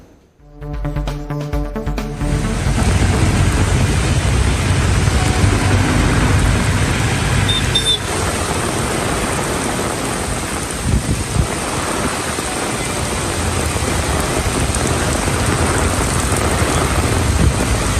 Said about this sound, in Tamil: கடலூர் மாவட்டத்தின் பல்வேறு பகுதிகளில் கனமழை பெய்து வருகிறது.